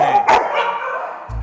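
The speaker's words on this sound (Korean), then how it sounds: "이게 원래 저희가 없으면 이렇게 안 짖죠" Large dogs at a shelter let out a couple of short, sharp barks close by, followed by a fading, echoing tail and a brief low voice at the end.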